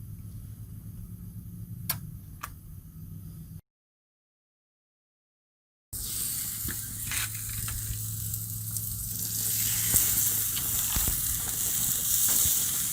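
Meat sizzling on a preheated grill: quiet ambience with a couple of clicks first, then after a brief gap a steady, loud hissing sizzle that builds toward the end, with no talk.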